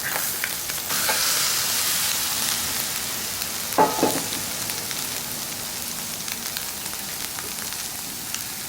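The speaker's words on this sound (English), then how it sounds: "let's get our pasta and snap peas in the skillet" Pasta and snap peas sizzle in a skillet with salmon over a camp stove outdoors, a soft, continuous hiss with a brief clatter near the middle, heard alone at moderate loudness.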